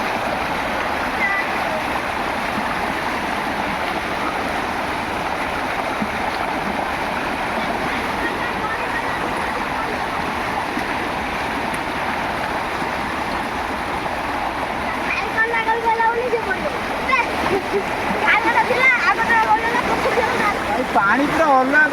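Floodwater flows through a village, a steady loud rushing and splashing wash that grows slightly busier toward the end.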